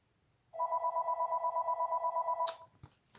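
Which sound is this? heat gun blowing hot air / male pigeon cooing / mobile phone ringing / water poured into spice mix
mobile phone ringing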